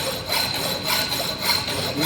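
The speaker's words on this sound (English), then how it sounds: "Have to do the filing." A hand file is pushed back and forth across a metal workpiece to prepare the edge for a welded butt joint, making steady rhythmic rasping strokes, close and continuous, roughly four strokes a second.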